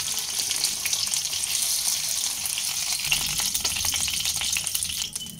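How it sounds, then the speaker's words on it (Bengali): Pomfret fish shallow-frying in oil until reddish, heard as a steady close sputtering sizzle with crackles that grow busier toward the end, and no voices. "একটু লালচে করে ভেজে নিয়েছি"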